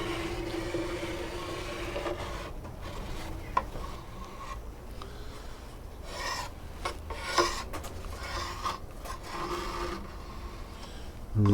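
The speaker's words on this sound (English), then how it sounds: "I'm just finishing off with a pot scourer pad." A pot scourer pad rubs over the wooden cabinet of a 1945 Columbus Model 90 radio, made in New Zealand, in a steady close-up scratchy rasp that runs continuously with small strokes and brief knocks.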